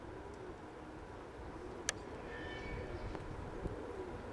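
Soft pigeon cooing drifts through a low, steady background hum, with a faint click and distant chirps.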